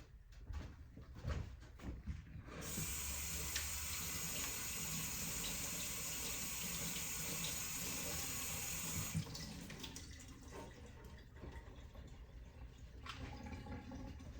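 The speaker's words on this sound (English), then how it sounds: "let me rinse off this kale a little bit" Kale rinsed under a running kitchen tap, a steady rushing splash of water lasting several seconds, with handling clatter before and after and no speech.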